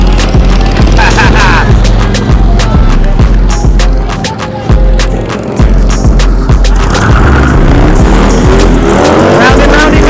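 A stunt car at a Ft. Lauderdale beach stunt show revs loudly and steadily, with rhythmic engine pulses and tire noise throughout, while people talk over it.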